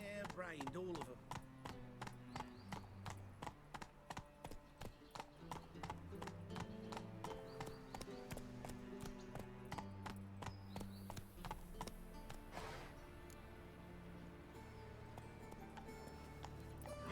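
Hooves of the horse from the video game The Witcher 3 pound in a steady, fast galloping rhythm, close and continuous, over a music score, with a brief neigh and some talk.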